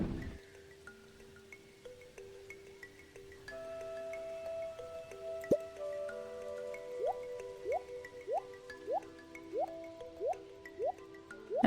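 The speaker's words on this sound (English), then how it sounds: "Fill up Coffee's water bowl." Watering can filling a pet's water bowl in Stardew Valley, a rising sequence of soft repeated drip and fill tones over a quiet game music bed, evenly paced and clear.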